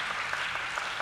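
A crowd in an arena claps at a women's 10m air rifle shooting final at the Asian Olympic qualification event in Jakarta, giving a brief, dense wash of steady applause.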